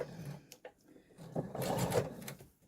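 Sewing machine stitching foundation paper piecing fabric, short quiet bursts of mechanical whirring broken by pauses and small clicks, then a longer run of stitching near the end, close and fairly soft.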